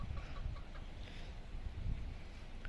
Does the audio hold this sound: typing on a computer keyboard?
no